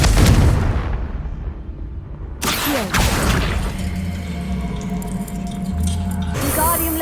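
A Confringo blasting spell explodes in Hogwarts Legacy: a loud booming blast opens, a second sharp crack and rumbling burst follow mid-clip, then debris and a lingering low rumble trail off.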